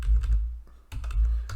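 Rapid clattering keystrokes on a computer keyboard, close and fairly loud, in two bursts separated by a brief pause, with no voices.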